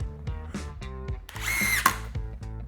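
A DeWalt impact driver running at speed 2 rattles out rapid hammering bursts, close and loud, with a short high whine partway through and no talking.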